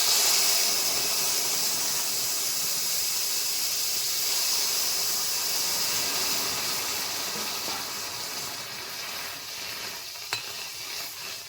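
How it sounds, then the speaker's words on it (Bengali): Fried onion and garlic tempering poured into lentil dal with pumpkin flowers hisses and sizzles in a dense, steady wash that slowly fades, with a faint clink near the end. "পেঁয়াজ রসুনগুলো ভাজা ভাজা হয়ে আসছে এখন ডাল সম্বাদ দিয়ে দিচ্ছি"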